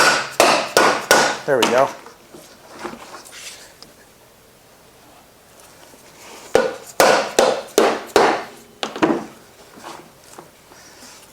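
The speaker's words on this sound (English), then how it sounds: "we need to do the little trick where we hit it with a mallet" A mallet strikes a part on a GY6 scooter CVT in two bursts of rapid, sharp, close blows, about five hits each with a quiet gap between, followed by a brief spoken remark.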